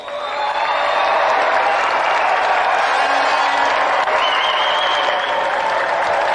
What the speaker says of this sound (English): Let's have a warm round of applause for Tony the Lunatic Duray.